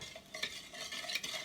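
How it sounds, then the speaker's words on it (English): A sugar mixture is stirred in a bowl, producing a soft, continuous swishing and scraping at low volume with a faint rhythmic motion and no voices. "I'm going to stir this mixture"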